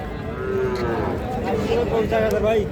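A Sahiwal cow moos loudly and close by in a busy cattle market, one long drawn-out low call set against a steady crowd murmur and background voices.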